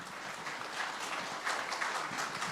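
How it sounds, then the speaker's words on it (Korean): A church congregation applauds during a Sabbath talk, a steady, soft wash of many hands clapping at a distance with no voices above it. "박수가 이렇게 있어서 너무나도 기쁩니다"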